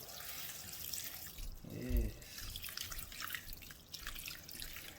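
Kangen water poured from a container over sea moss, a faint trickling, splashing pour that swells briefly in the middle over a quiet room, with a short spoken word.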